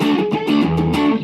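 A thick, fuzzy distorted electric guitar through an Alien Analog fuzz pedal into a Supro Black Magic Reverb amp plays a short run of sustained notes, loud and close with a saturated buzzing tone.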